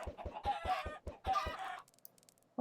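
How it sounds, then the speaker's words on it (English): Minecraft chickens cluck in a rapid series of short, close, sharp clucks, about eight in quick rhythm, then fall silent with a faint blip near the end. "I've got a large amount of chickens, obviously, trying to gather feathers"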